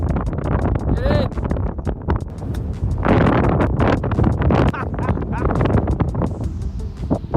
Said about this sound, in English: Very windy, very cold.